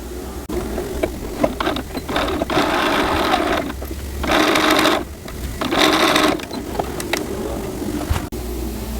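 A sewing machine stitches a doll's gown at a 3/8-inch seam, running in close, steady mechanical bursts separated by short pauses.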